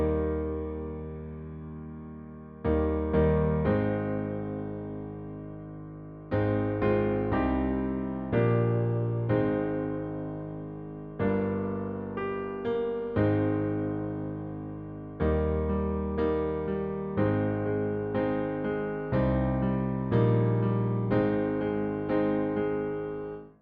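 Solo piano plays the intro to a song, a clean, close, moderately loud passage of sustained chords and bass notes that strike and decay in a slow, steady pulse.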